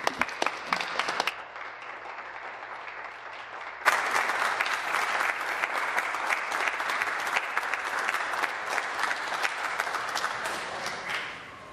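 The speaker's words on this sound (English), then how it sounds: "join me in publicly acknowledging and applauding Michelle Douglas" Members of a legislative assembly applauding in the chamber, a sustained patter of many hands clapping that drops briefly then swells again and carries on steadily to the end, no speech over it.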